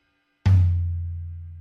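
A single resonant tom drum hit, sharp attack followed by a sustained low, tonal ring that slowly fades.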